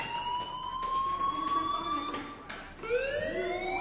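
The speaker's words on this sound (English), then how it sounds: "Hey, do you hear that fire alarm? That means you should be outside." A rising and falling electronic fire alarm wails repeatedly inside a school in the game Life is Strange, loud and continuous with sweeping tones and no talk over it.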